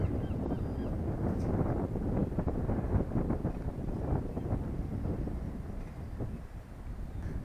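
Steady wind buffeting a microphone at Brixham Harbour, a constant broadband rumble and roar throughout with no clear breaks, loud and close, with no speech.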